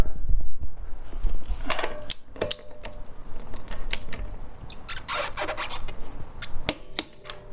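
Metal ratcheting and clicking of a socket on a torque wrench tightening a lug nut on a Honda Element wheel, close and fairly loud, in short bursts with scraping and rattling between them.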